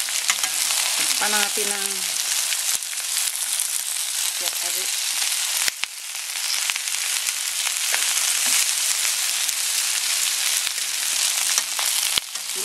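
Yakisoba noodles dropped into a hot pan and frying, a loud continuous sizzle with occasional utensil clicks, while a voice speaks briefly early on.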